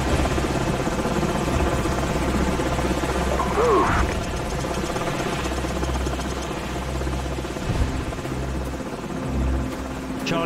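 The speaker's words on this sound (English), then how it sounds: "Enemy helicopters." Steady thumping helicopter rotor drone in Call of Duty 4: Modern Warfare fills the scene, loud and continuous, with faint game effects and a brief clank partway through.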